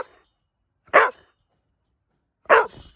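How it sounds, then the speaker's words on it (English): A dog gives two single, sharp barks about a second and a half apart, close and loud against near silence. "my dog never fucking shutting up"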